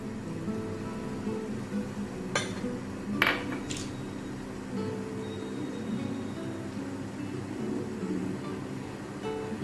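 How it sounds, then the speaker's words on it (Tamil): Wholewheat eggless apple cake batter is stirred steadily in a bowl, giving a soft continuous scraping swish with a few sharper clinks of the utensil against the bowl's side. "நல்லா மிக்ஸ் பண்ணிடுங்க"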